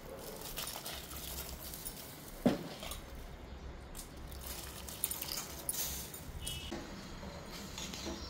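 Rice goes into a pot of boiling water for biryani, giving a soft, quiet patter with a few light clinks over a steady bubbling hiss and no voices.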